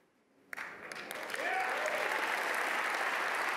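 Audience applause at the Cycle Oregon 2012 kickoff event, starting abruptly after a quiet moment and swelling into steady, dense clapping from a large crowd that holds full strength to the end.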